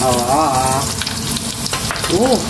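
A whole head of garlic frying in hot oil, with a loud, steady, close sizzle throughout and a couple of brief whistling, warbling tones over it.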